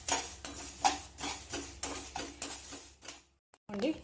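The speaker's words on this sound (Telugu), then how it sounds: "మెంతులు కొంచెం బాగానే ఫ్రై అయిపోయాయి." Fenugreek seeds fry in a small pan while a utensil stirs and scrapes them, producing a steady run of clinking scrapes over a soft sizzle, then a brief pause.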